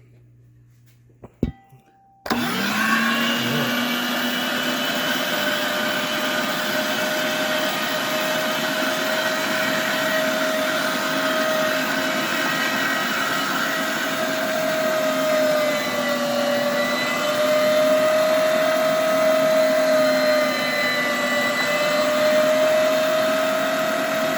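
Electric meat grinder working through deer meat, switched on after a couple of faint clicks and then a loud, steady motor whine with a grinding drone that holds for over twenty seconds, close by and without talk.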